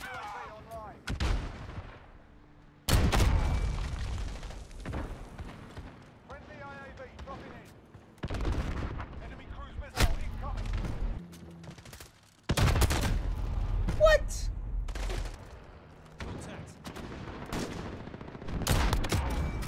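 Repeated video-game gunfire: sharp loud shots and short bursts that crack out in clusters over about twenty seconds, with brief pauses between volleys and a person talking intermittently underneath.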